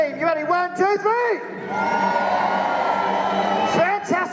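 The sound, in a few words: arena crowd screaming and cheering at truck show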